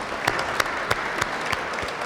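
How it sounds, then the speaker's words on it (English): An audience at a rare disease event claps steadily and evenly, a dense wash of applause from many hands with a few sharper claps standing out. "give yourselves a round of applause"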